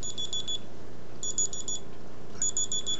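An electronic alarm goes off in three short bursts of rapid high beeps, each train of pips separated by pauses, moderately loud over a low steady room hum, with no talk.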